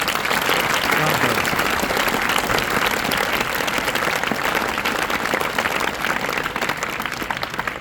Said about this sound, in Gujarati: સૌપ્રથમ અહીં ઉપસ્થિત થયેલા મહેમાનોનું તાળીઓ દ્વારા આપણે સ્વાગત કરીએ।